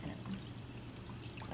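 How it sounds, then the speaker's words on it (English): Water pours steadily into a metal pot on a lab bench, a faint continuous trickle heard close by with no talk. "fill the metal pot about a third full of water"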